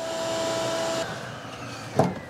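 Vacuum nozzle pushed into a car's gas tank, sucking air through it to dry it after derusting with Evaporust; a steady whooshing drone with a faint tone that drops out, then a brief bump, no talking.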